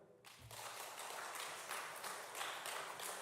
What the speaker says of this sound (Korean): 성도님들 일어나서 박수 한번 쳐보세요.